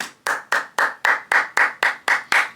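Nine sharp hand claps in a steady, evenly spaced rhythm, each a crisp close slap with a short decay, with no voices between them.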